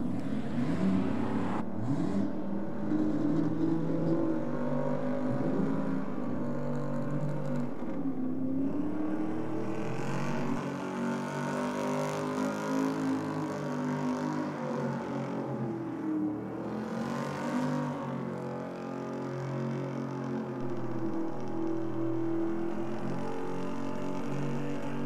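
LS2 V8 car on a burnout pad, engine revving hard and wavering in pitch as the tyres spin, a loud sustained roar with rising and falling surges over about twenty-five seconds, no talking.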